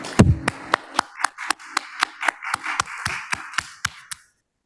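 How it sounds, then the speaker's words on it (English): Sparse clapping at a Toastmasters club meeting for the club president, about sixteen sharp, separate claps at a steady pace with a brief low voice at the start, ending abruptly. "Let's give her a great big round of applause."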